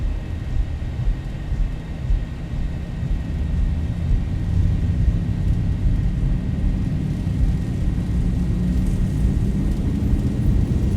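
Boeing 737-800 jet engines at takeoff power in the X-Plane 11 flight simulator, giving a steady, loud, deep roar and rumble that builds slightly and holds through the whole stretch, with no talk.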